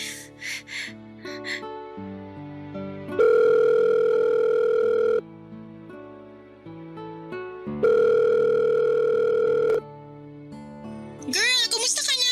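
Mobile phone ringback tone heard while calling a friend: two long, steady electronic tone bursts separated by a pause, with brief breathy vocal sounds before them and at the end.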